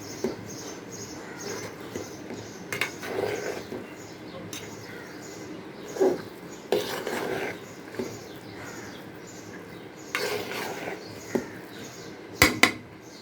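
Cooked polao is stirred in a pot on low heat, the spoon scraping and clinking against the metal in scattered knocks, with some talking now and then.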